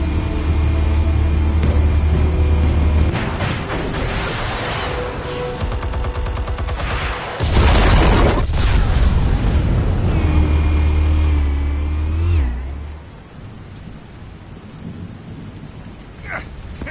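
Explosives going off in the Batman Telltale game: loud booming, rumbling blasts with crackling debris that swell and roll on for several seconds, then cut to a quieter tail.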